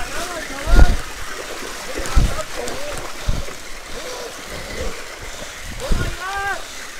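A river in flood rushes along a mountain enduro trail, a constant broad roar with splashing and thuds, while several people call out excitedly over it.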